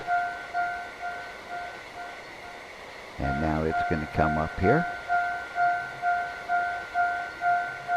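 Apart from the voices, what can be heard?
trains running in video game A-Train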